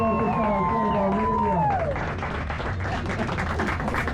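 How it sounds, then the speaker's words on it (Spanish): Crowd applause and cheering at a street show in Comuna 13, Medellín, breaking out after about two seconds as a loud, dense clatter of clapping; before that a voice sings or calls over the crowd. "el aplauso para ustedes y para el que lo merece"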